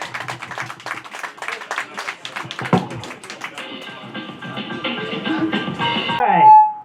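A crowd at an outdoor parking-lot community event claps in a dense burst of many hands, then the clapping thins as a sustained tonal swell builds and fades at the end.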